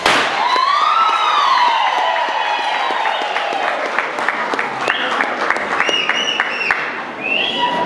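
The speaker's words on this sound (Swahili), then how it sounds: "Tupigie makofi." Wedding guests at a church ceremony at AIC Milimani, Nakuru clapping, sustained applause from a crowd with loud ululating and whooping voices rising over it, lively and close.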